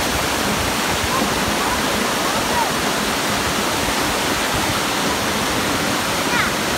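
Tad Yueang waterfall in Pakxong, Champasak, Laos roars as a loud, dense, unbroken wash of falling water filling the whole stretch, with no other sounds standing out.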